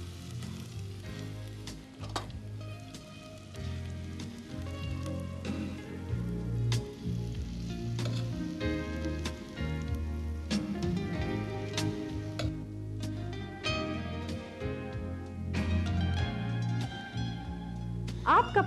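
Pasanda curry sizzles steadily in oil and ghee, a dense continuous crackle and hiss with scattered pops, while background music plays underneath.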